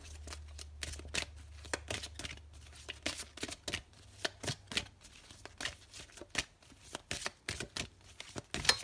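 Large tarot cards being shuffled up close, a steady run of papery riffles and flicks in uneven bursts, soft and continuous with no talking.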